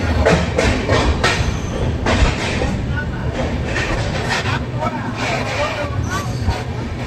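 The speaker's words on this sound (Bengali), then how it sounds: "আর চলো এখন আমাদের ট্রেনটা এখন টানছে" The Dhauli Express (12822, Puri to Howrah) rumbles and clatters steadily as it pulls out of a station, with a loud continuous roar of wheels and carriages.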